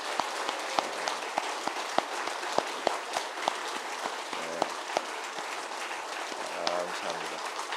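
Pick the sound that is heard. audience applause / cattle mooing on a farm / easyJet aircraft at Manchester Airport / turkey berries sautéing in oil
audience applause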